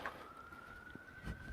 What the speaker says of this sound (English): I hate it when all the sirens are going off.